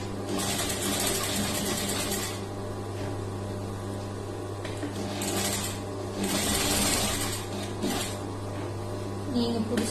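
A sewing machine stitches a blouse lining in close, steady whirring bursts with brief pauses between runs over a constant low hum.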